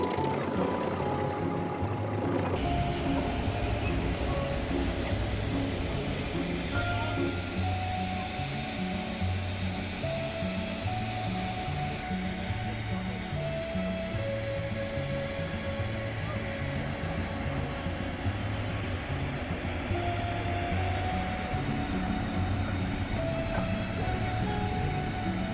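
A rare steam locomotive starts up with a loud, continuous mechanical rumble and low repeating pulses that stay steady throughout. No one speaks.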